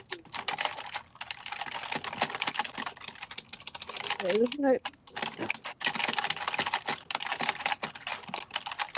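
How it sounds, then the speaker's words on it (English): Rapid, uneven clatter of keys on a computer keyboard during a Dungeons & Dragons session, running steadily for several seconds with brief pauses, close and clear beneath people talking. "Who's typing in these calculations?"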